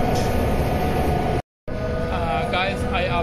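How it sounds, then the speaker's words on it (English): Busy indoor ambience at Nanjing South Railway Station, a steady loud wash of crowd murmur and hall noise with a brief dropout midway, and a few voices calling out near the end. "Nanjing South Railway Station."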